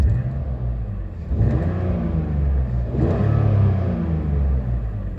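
BMW E46 engine running, a steady close low rumble that rises in two brief revs before settling back to an even hum.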